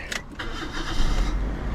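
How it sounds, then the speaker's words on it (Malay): A 2009 Perodua Myvi 1.3 EZ facelift automatic is started with the key, giving a short crank followed by a steady near idle hum, with a jingle of keys at the start. "So kita ambil kunci kita start dulu"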